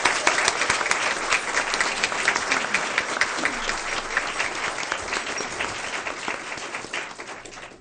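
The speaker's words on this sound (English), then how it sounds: "please join me in another round of applause for our Transportation Apprenticeship Program" A school board meeting audience applauds for transportation apprenticeship program graduates, dense and continuous clapping from many hands, loud and steady throughout before tapering slightly at the end.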